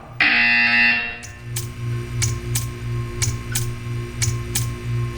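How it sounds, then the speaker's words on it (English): A loud electronic buzzer tone sounds for about a second in the video game Portal 2, followed by a steady low hum with regular faint ticking clicks. "You will hear a buzzer."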